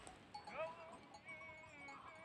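A sheep bleats once with a wavering, nasal call, fairly faint against a quiet farm background.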